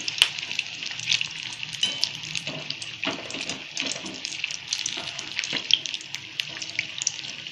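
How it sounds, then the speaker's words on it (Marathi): Bell pepper (shimla mirchi) pakoda fritters frying slowly in hot oil, a steady soft sizzle and bubbling crackle running continuously with small pops, fairly close and alone without talk. "मग स्लोवरती तळल्यावरच आतून पण मिरची चांगली शिजते"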